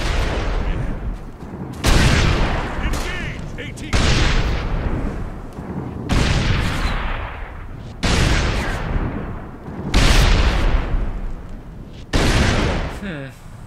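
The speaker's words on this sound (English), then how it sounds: "Artillery, howitzer, high explosive, barrage, fire forefront." Howitzer high-explosive artillery barrage in Operation Flashpoint: Dragon Rising, a string of about seven heavy, booming blasts roughly every two seconds, each with a loud crack and rumbling decay, close and alone without talk.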